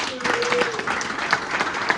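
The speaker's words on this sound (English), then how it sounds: "please give a round of applause to our second act of the evening" A crowd at a local magic club show claps and applauds steadily while a voice speaks over the clapping.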